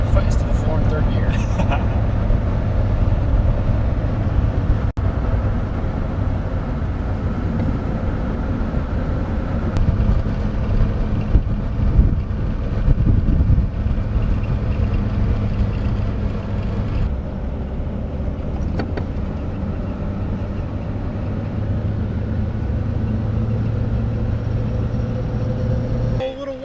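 A bagged Euro-spec 2F Volkswagen Polo coupe engine held at full throttle in third gear, a loud, steady low drone from inside the car with people talking over it.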